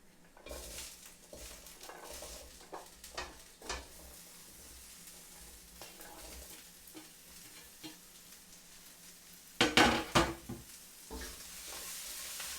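Sweet potato, courgette and peppers being stirred in a frying pan with garlic, onions and spices, a soft sizzle under scattered scrapes and taps of a utensil, with a louder clattering burst near the end.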